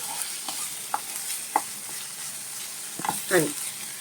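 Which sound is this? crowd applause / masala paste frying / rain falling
masala paste frying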